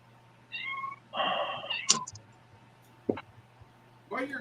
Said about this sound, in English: keep thinking I hear a kitty